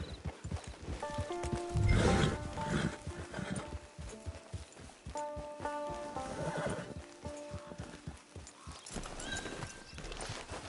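A horse in Red Dead Redemption 2 neighs loudly around two seconds in, then whinnies again near six seconds, with steady clip-clop hoofbeats continuing throughout.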